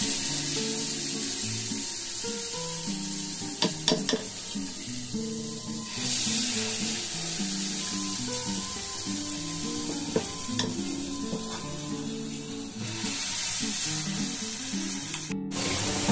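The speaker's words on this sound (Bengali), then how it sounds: "ঠিক এইরকম সাইজ করে একটা করে চামচ করে নেবেন, আর এইভাবে তেলের মধ্যে দিতে থাকবেন" Spoonfuls of batter dropped one by one into hot oil, a continuous bright sizzle and spray that swells as each portion goes in, with occasional light clinks of a spoon; no talk.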